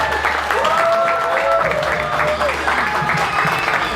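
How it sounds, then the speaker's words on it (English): A stand-up comedy audience applauds and cheers for a comedian, a dense, loud wash of clapping with whoops and whistles sustained throughout. "Make some noise for Zoltan."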